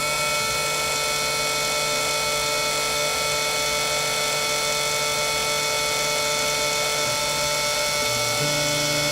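A Roland Modela milling machine cutting a PCB gives off a steady, loud high-pitched whine of its spindle with layered tonal hum, shifting slightly in pitch near the end.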